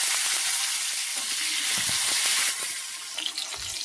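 Tomatoes go into hot oil seasoned with panch phoron and fry with a loud wet hiss that eases after a couple of seconds into softer sizzling, broken by a few low clunks, without any talking.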